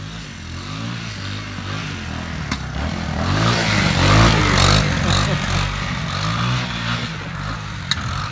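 A Honda three-wheeler ATV rides across a frozen lake during ice fishing. Its engine drones and revs up and down at moderate distance, swelling louder in the middle before easing back, with no talk over it.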